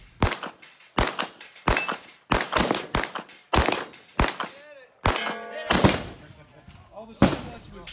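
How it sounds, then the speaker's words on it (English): Pistol shots ring off steel targets at a shooting-match stage, a steady series of sharp cracks each followed by a metallic clang, about one per second, loud and close with no talk. "Off to the left, you can see that I've arrived on the stage and started engaging the pistol targets."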